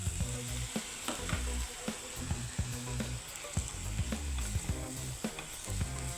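Vegetable noodles with soya sauce stirred in a hot pan, a steady loud sizzle with scraping and clinking of the utensil against the pan at close range, no voices.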